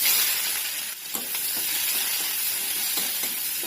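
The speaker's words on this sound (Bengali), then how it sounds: "এই তেলের মধ্যে পেঁয়াজগুলো ভেজে নেবো," Chopped onions hit hot oil in a loud, hissing sizzle that holds steady and close, with light stirring scrapes ticking underneath.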